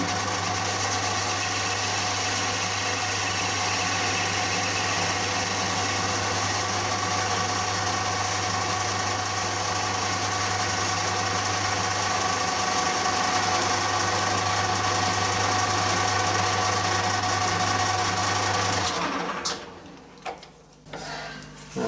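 A metal lathe cuts a thread relief, giving a steady, loud machine hum with a constant drone that runs unbroken for most of the time, then stops abruptly near the end and leaves a few faint clunks.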